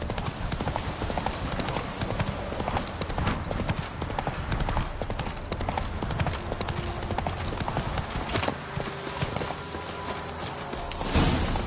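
Roach the horse clip-clops along in The Witcher 3: Wild Hunt, with hoofbeats in a brisk, steady rhythm set against game ambience and occasional faint voices.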